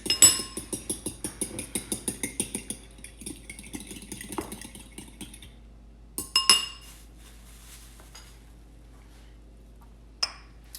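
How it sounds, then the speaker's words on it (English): An egg is whisked for crab cake batter, a rapid run of close, bright metallic clinks against a bowl for a few seconds, then a pause with a couple of isolated knocks. "For the wet ingredients, we are going to use 1 egg, give it a quick whisk"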